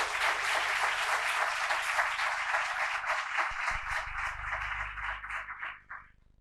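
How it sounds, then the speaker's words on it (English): An audience at a university community forum gives student-led volunteers a full round of applause. Sustained, even clapping fills the room, then tapers off into a few last claps. "Let's give them a round of applause for their amazing service."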